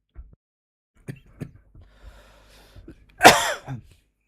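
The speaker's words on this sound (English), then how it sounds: "I'm not on mute and I'm coughing" A single sharp, explosive cough bursts out after a few quiet breaths and small mouth noises.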